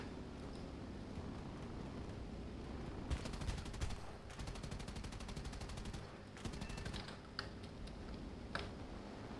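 Rapid .50 cal machine gun bursts aimed at a Stuka in War Thunder, heard as several fast, crackling volleys over a steady engine drone, fairly faint and distant.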